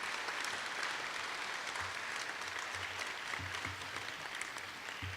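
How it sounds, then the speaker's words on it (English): Steady applause from an audience at a middle school awards ceremony, a continuous moderate wash of many hands clapping in a hall, heard from some distance. "So a big round of applause for Lauren"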